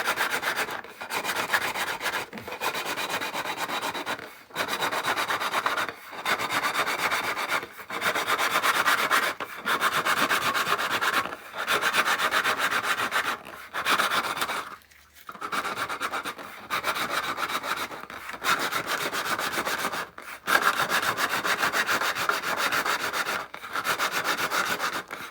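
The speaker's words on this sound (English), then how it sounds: "you just got to give it a little clean with sandpaper" Sandpaper worked over an Imperial gunner helmet: steady back-and-forth rubbing strokes in repeated rhythmic bursts with brief pauses, close and moderately loud, with no talking.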